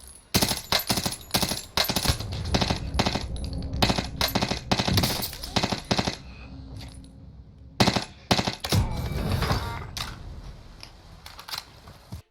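Burst weapon gunfire in Warzone, rapid clustered bursts of sharp shots cracking close and loud in irregular groups, with short gaps and a quieter stretch before a final flurry.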